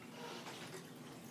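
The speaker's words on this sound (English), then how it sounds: "I'm just going to go ahead and pour some water into it" Water pours into a sensory bottle in a soft, continuous splashing trickle, faint and steady, with no voices.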